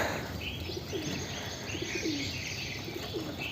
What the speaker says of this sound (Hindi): तो ये कबूतर पकड़ा, अभी आपको ठीक से दिखाता हूँ।